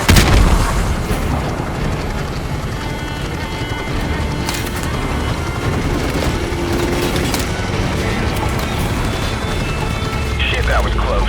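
RPG blasts and gunfire rage in a Call of Duty 4 combat mission, with dense booming explosions and crackling fire filling the scene under a steady battle roar, several sharper bursts standing out.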